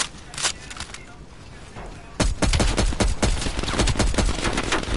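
Gunfire from the video game Call of Duty Cold War rattles in dense, rapid bursts, building into near-continuous automatic fire in the second half. It is loud and close, and the shots clearly dominate the clip.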